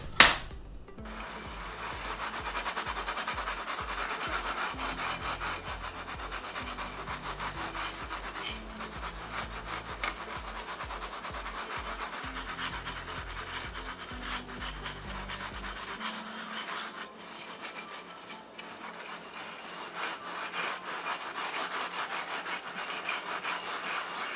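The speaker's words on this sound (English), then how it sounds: "we're actually going to take the graphics card and vigorously rub it against the carpet" Graphics card being rubbed vigorously against carpet: a steady, close scrubbing rasp that runs continuously for over twenty seconds, with rhythmic strokes underneath, loudest in the first two thirds and thinning toward the end.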